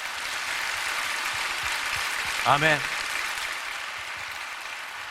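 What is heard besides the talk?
congregation applauding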